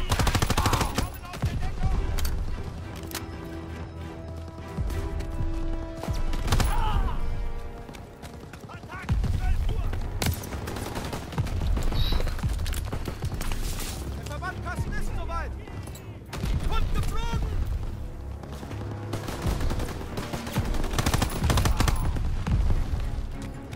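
Rapid bursts of gunfire in Call of Duty: WWII crackle repeatedly through a busy, loud mix, with a voice talking over parts of it.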